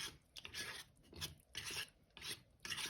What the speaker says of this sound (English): Just stir it real good to get all the lumps out and make it all dissolve.